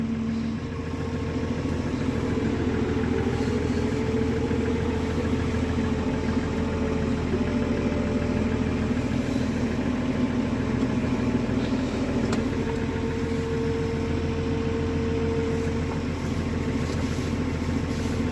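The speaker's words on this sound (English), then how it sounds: "Now this tractor, the clutch needs calibrating, so it tends to jump into gear for some reason." A tractor engine runs steadily while driving through a tight farmyard alleyway, its clutch out of calibration and prone to jumping into gear; a continuous mid-pitched drone with a constant vibrating hum, close and unbroken, with no talking.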